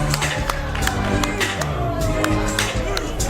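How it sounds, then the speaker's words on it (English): A wrestling crowd at a six-man tag match claps, cheers and whoops in a steady, dense roar, with loud claps popping through the noise. "stand up and applaud these great men"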